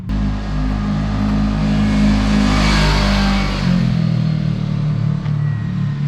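A Kawasaki KRX 1000 side-by-side on its stock exhaust cruises past at around 20 mph, a loud close engine drone with harmonic rumble that rises to a peak as it passes and drops in pitch as it moves off.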